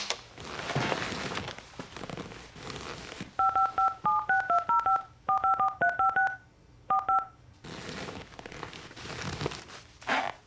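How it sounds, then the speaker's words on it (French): A telephone number is keyed in on a touch-tone phone, producing several quick runs of distinct DTMF beeps in irregular groups, set against a low background hum and faint rustling before and after. "Je lui téléphone immédiatement."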